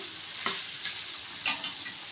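Potato pepper fry sizzling in a pan while being stirred, a steady frying hiss with a couple of sharp scraping strokes of the spoon, close.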